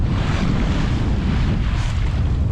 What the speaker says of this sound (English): Splashing our way out before we make our tack to head north.